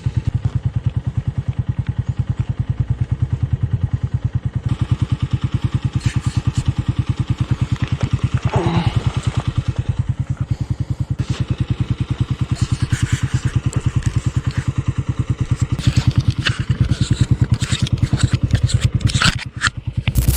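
A motorcycle engine runs steadily and loud throughout, with a constant low throbbing drone, occasional scraping and clattering noises on top, and no talking.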